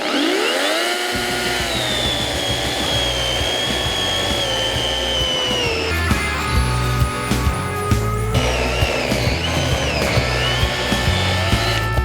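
A VITALS ARZ 3640S cordless saw runs steadily for about twelve seconds, a loud, continuous motor whine with shifting pitch as it cuts, close up and with no talk.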